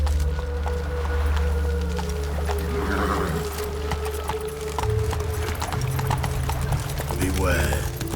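Horse hooves clip-clop at a steady galloping rhythm in The Witcher 3, close and continuous over a low ambient drone, with a horse whinny and other game sounds layered in and speech present.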